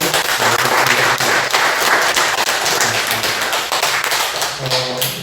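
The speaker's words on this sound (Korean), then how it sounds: "우리 반가운 마음으로 기쁜 마음 박수 한번 해주시죠." A church congregation at a Sunday service bursts into loud, dense clapping that holds steady, with a little murmur of voices near the end.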